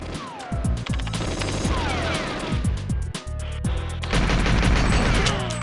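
Rapid bursts of gunfire in GoldenEye 007, with a pistol among the weapons, crackle almost continuously at close range, with a short lull just past the midpoint before the shooting picks up again at full intensity.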